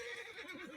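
A horse in a video game lets out a short, wavering neigh, fairly quiet and alone.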